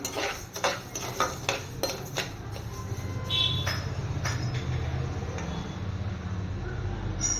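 A spoon stirs puttu mixture in a metal pan, giving a run of quick scraping clinks and taps that settle into a steady scraping swirl, close up and alone.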